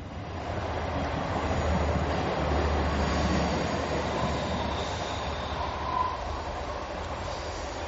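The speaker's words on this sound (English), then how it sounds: "That's a very quiet train." A train rolls past close by with a continuous rumbling roar of wheels on track, holding steady throughout with a faint squeal rising briefly near the end.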